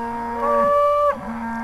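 A cow in a grazing paddock on a Texas ranch lets out one loud, close, drawn-out moo that swells and fades, with quiet outdoor background before and after.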